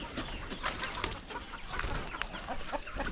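Darag native chickens cluck in a farm pen, with several birds making short, overlapping clucks and calls at close to middle distance amid light background noise.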